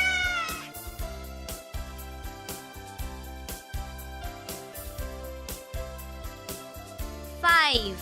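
A cat meows near the start and again near the end, brief pitched cries over a steady, rhythmic music bed.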